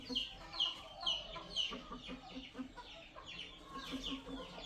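A rooster being handled clucks repeatedly at close range in short, uneven bursts, with some faint low background noise underneath.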